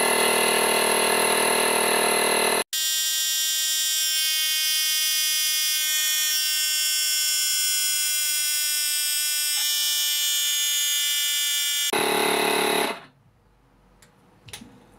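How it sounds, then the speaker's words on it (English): A Makita 18V cordless inflator, model 181, pumps up a tire to 32 psi. It gives a loud, steady buzzing motor drone that shifts tone briefly at the start, runs unbroken for about ten seconds, then cuts off to near silence. "I'm going to use the 180 and the 181 to inflate this tire to 32 psi"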